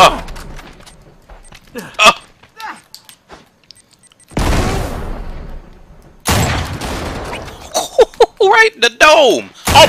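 Two long bursts of sustained gunfire from the video game Uncharted 3 roar over excited players shouting and talking, with quieter gaps and shorter hits in between.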